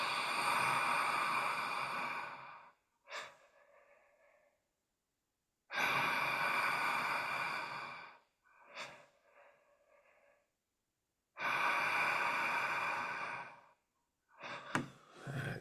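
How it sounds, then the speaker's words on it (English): Exaggerated breathing during a conscious connected breathing session: three long, loud, close inhales, each followed by a short, soft sigh and a quiet pause. "That's a nice, big, exaggerated inhale, short, soft sigh."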